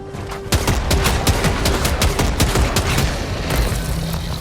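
Rapid gunfire in the video game Helldivers 2, a dense fusillade of loud shots and booms firing in quick bursts.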